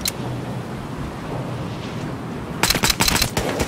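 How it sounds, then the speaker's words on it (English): Gunfire in the video game Battlefield Hardline bursts out in a rapid cluster of sharp, loud shots near the end, after one early shot over a rumbling background. "Just gonna shoot him 6 times in the face."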